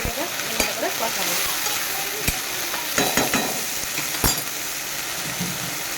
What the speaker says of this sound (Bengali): আদা রসুন আর কাঁচা লঙ্কা পেস্ট দেবো। এটাকে ভালো করে কষাবো।